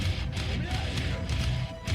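Early 2000s-style nu metal plays, a dense wall of distorted guitars with heavy drumming and crashing cymbals, muffled and fairly quiet, with pounding low-end hits throughout the short excerpt.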